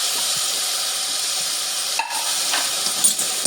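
Potato, carrot and tomato pieces tossed into a hot pan sizzle with a steady, dense hiss, broken by a few brief stirring clatters close by.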